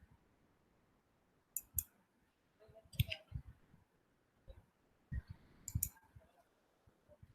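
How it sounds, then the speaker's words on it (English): Typing on a computer keyboard in a class setting, heard as faint scattered bursts of light key clicks with short pauses between them, quiet and close. "Let me type the school's name."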